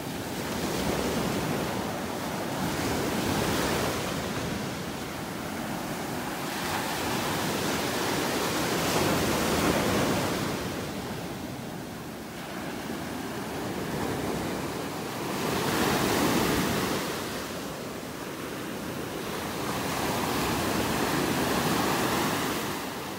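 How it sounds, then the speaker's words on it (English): Waves crash on a beach in North Naples, Florida, in repeated surges that build and recede every few seconds, a loud continuous roar with wind and no talking. "sounds of the waves crashing on the beach"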